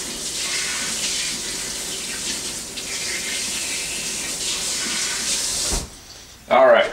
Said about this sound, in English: Actually, let me wash these first,